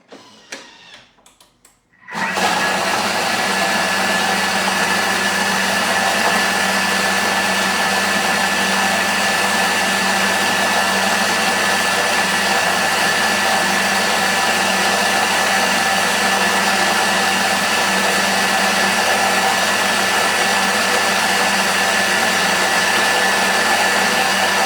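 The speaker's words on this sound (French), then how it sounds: "et là, on va mixer 30 secondes, vitesse 8." A Thermomix blends asparagus at speed 8, starting after a brief quiet clatter and then holding a loud, steady high-pitched motor whine with a constant drone for over twenty seconds.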